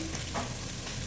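Mustard seeds sizzling in hot oil as the base for an Ayila fish curry, a brief burst of close, steady crackling.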